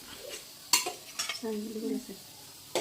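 Ginger garlic paste stirred in a hot pan gives a soft sizzle beneath light scraping and clinking of a spoon against the metal, close and fairly quiet with no voices.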